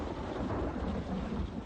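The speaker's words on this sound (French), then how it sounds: "Si vous êtes assez près pour entendre le tonnerre, vous êtes assez près pour être foudroyé." Thunder from a nearby storm rumbles low and steady through the whole short stretch, faint and mixed with rain noise, and nobody speaks.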